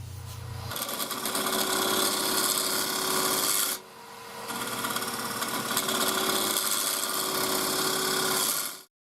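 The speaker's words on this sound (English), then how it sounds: "Here we go with the 1/2 inch gouge there, just starting to shape up that top lip" A half-inch gouge shaping the top lip of a wooden piece spinning on a lathe, a steady loud rasping scrape with the whine of the lathe underneath, cutting out briefly midway before resuming.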